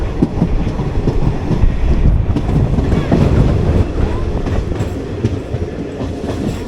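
The diesel-hauled Madurai-Guruvayur Express rolls into a station with a loud, continuous rumble and rhythmic clickety-clack of wheels on rail, heard from on board.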